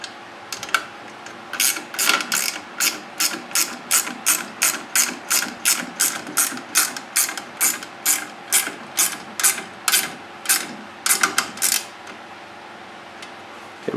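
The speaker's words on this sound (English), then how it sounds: "we'll just tighten everything up, tighten all these nuts and bolts up here" A hand ratchet tightening nuts and bolts on a Groundwork walk-behind spreader, close and crisp, clicking in a steady run of about twenty evenly spaced bursts with a brief faster flurry near the end.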